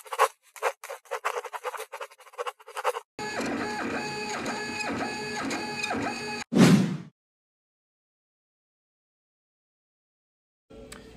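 A Prusa Mark 3 3D printer works, first in quick stuttering bursts of stepper whine, then a continuous rhythmic patterned buzz of moving axes, ending with a louder sliding scrape before silence.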